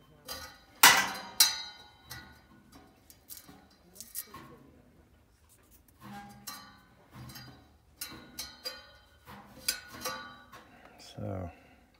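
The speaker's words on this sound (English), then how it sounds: "I hate hammering on it like that." Sharp metallic clanks and taps of a hammer struck irregularly on a gas furnace motor, some ringing briefly, with quiet gaps and a few scraping sounds between hits.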